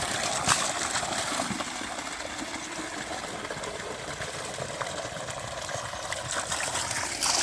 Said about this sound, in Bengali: সকালবেলা পাম্প চালাচ্ছি, যেই দেখছে পাম্প চলছে সাথে সাথে বালতি বালতি নিয়ে হাজির